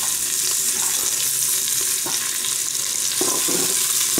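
Vegetables sauté in a Cookeo multicooker for a vegetable stew, a loud, dense sizzle heard up close, broken by a few brief stirring scrapes and no voices.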